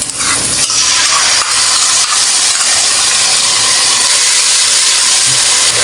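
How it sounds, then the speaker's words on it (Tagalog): Bagoong shrimp paste sautés with garlic and onion in a hot pan, a loud, close, continuous hiss with a steamy roar that barely changes, with faint stirring scrapes underneath and no voices. "Igisa muna natin yung ating bagoong sa ating bawang at sibuyas."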